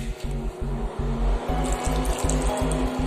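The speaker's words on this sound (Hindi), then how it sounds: "तो हमने थोड़ा पानी डाल दिया," Water is poured into a pot for an apple wood and watermelon smoothie, a close, continuous gush against a steady pulsing rhythm, with no speech.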